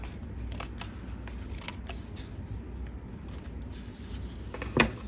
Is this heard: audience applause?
no